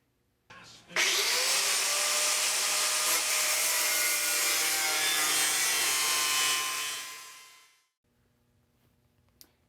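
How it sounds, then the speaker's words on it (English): An angle grinder cuts straight across a metal seat panel on a Frogeye Sprite, a loud sustained high whine that starts abruptly, holds for about six seconds and then spins down to quiet. "So next up, I'm going to get the angle grinder out. I'm just going to cut straight across on that line."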